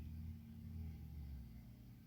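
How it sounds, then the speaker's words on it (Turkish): A low engine rumble from a slow-moving municipal pesticide spraying truck passing through a neighborhood nearby, steady and droning, with no talking. "mahallede ilaçlama aracı geçiyor da o yüzden o kadar ses geliyor yani"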